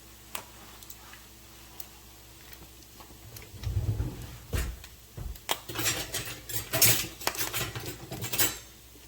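A metal slotted spoon clinks and scrapes against a pan while lifting cooked bacon out of the grease, with scattered light taps, then a busier run of close metallic clatter.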